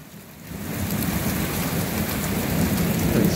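Heavy rain pours steadily in a thunderstorm while the sun shines through, a dense, even hiss of downpour on surfaces that holds strong and close throughout, with no voices.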